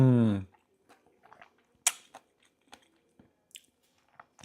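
Someone chewing grapefruit up close, a handful of soft, wet crunches and squishy bites scattered over a few quiet seconds after a short vocal sound at the start.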